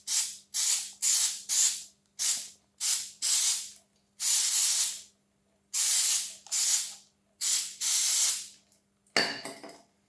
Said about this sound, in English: So, just a bit of automated brake cleaner.